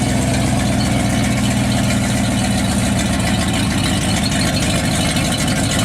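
A $400 OBS-era Ford F-150 truck engine idles steadily and loudly up close, a continuous low rumble with an even, unchanging rhythm and no voices.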